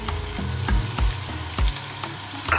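Garlic and ginger sautéing in ghee, a steady close sizzle and frying hiss broken by several dull knocks of a spoon stirring against the pan.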